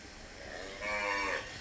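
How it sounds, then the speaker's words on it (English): Cows in a paddock give a single drawn-out moo that swells in the middle and fades, faint and alone. "Nearby, the cows roam in a paddock."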